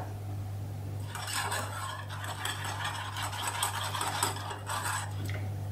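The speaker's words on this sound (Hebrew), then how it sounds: "אז קודם בתור סיר אני מערבבת את החלמון עם הקורנפלור והסוכר" Egg yolk being stirred with cornflour and sugar in a pot: a steady, close scraping and clinking of a utensil against the pot that runs for several seconds over a low electrical hum.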